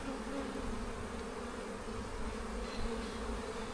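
Calm honey bees from a strong colony drone steadily around an open hive during an inspection, an even, moderately quiet buzz of many wings with no speech over it.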